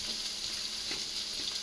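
Onion, garlic and tomato frying in coconut oil in a pan, a steady close sizzle and hiss with a few soft stirring scrapes, no voices.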